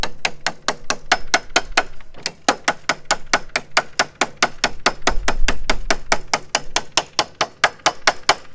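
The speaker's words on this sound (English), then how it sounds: "take your hammer, hammer along the edge" A hammer rapping quickly along the edge of bent sheet metal, dozens of sharp metallic strikes in a fast, steady rhythm with a brief pause partway through, close and loud, no voices.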